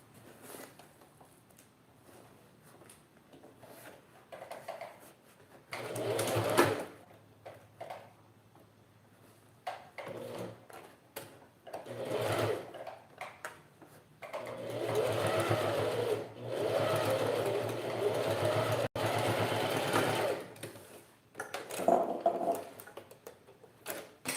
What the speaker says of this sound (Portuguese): eu vou passar a costura aqui com um pé de máquina